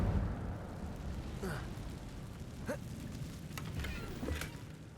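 An Incendio fire spell cast in Hogwarts Legacy, a rushing burst of flame with crackling pops and bright hissing flashes over a steady rumbling game ambience.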